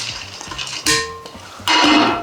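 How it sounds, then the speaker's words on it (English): Dry rice pours into a ceramic bowl in two quick rattling bursts, a light scrape and clink against the dish between them, close and clear with no voices. "you're going to add your rice to the bowl."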